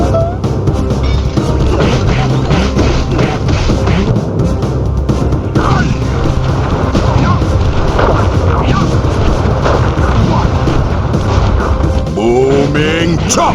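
Firework attack explosions from the video game Sly Cooper and the Thievius Raccoonus, a dense and continuous barrage of loud booms and bursts that lasts throughout, with no pause between blasts.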